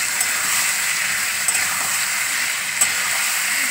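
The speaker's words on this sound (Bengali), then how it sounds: "পোস্তটা একটু কষাবো" Poppy seed paste frying in a pan for a Bengali vegetarian posto dish with ridge gourd, potato and fried lentil dumplings, giving a steady soft sizzle and hiss throughout, with a few faint clicks and no talking.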